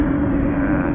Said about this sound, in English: Abu, I know why the helicopter is rounding to make video.